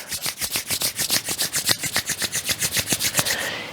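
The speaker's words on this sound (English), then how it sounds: "bring your palms to heart center and rub, creating friction and energy" Palms rub briskly together at heart center during a Kundalini yoga kriya, a steady run of about twenty rhythmic swishing strokes, close and clear, with no talking.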